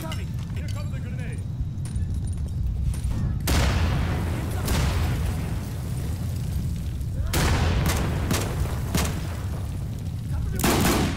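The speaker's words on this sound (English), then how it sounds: "Here comes the grenade." Grenade blasts and gunfire in the shooter game Insurgency, with heavy booms landing around four and seven seconds and again near the end over constant low rumble, while players talk throughout.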